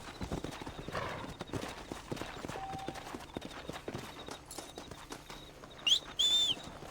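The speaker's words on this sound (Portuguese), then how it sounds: "dá pra soltar os cavalos, tá ligado?" Horses trotting in the video game Red Dead Redemption, a steady quick clip-clop of hooves on hard ground up close, with a brief horse whinny near the end and faint outdoor ambience.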